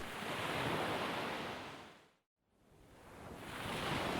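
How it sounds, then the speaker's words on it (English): Broad roaring rush of water from a racing flash flood through desert washes, loud and sustained, fading briefly to near silence midway before swelling back up. "The creeks and rivers became a racing flash flood,"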